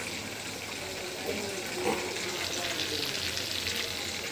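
Chicken 65 deep-frying in hot oil on a low flame: a steady, close, bubbling sizzle that holds evenly throughout, with a couple of faint pops, no talking.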